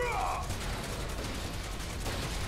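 Continuous gunfire in the video game Final Fantasy VII Remake Intergrade, a dense, loud rattle of rapid shots with no clear gaps, preceded by a brief tonal game sound at the start.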